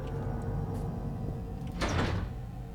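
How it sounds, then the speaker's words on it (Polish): A door swings open in the horror game Penumbra: Black Plague, a single short scraping, sliding sweep near the two-second mark over a low steady ambient hum, no talk. "A to są te drzwi."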